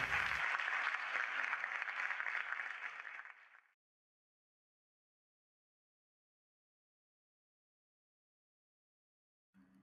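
Game applause sound effect as positive feedback, a burst of dense clapping that fades out within about four seconds, followed by long silence and a faint brief sound at the very end.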